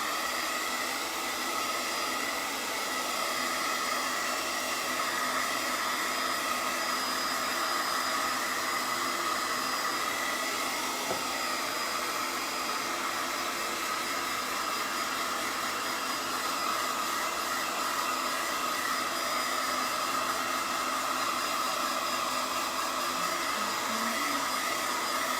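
Hair dryer blowing steadily to dry paint, a loud, continuous whooshing whine with an unchanging motor hum that runs the full length without pause or talk.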